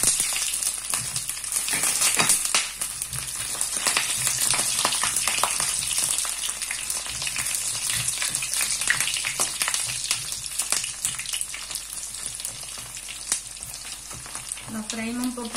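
Pieces of chorizo sizzle in hot oil in a pan, a loud dense crackle with bright spattering pops and a few utensil scrapes, close up and without any voices.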